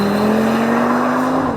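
A 2025 Audi RS 3 with its 400 hp five-cylinder running in RS Torque Rear rear-drive mode, a loud sustained tire squeal over the engine that holds one steady pitch, then dips as it ends.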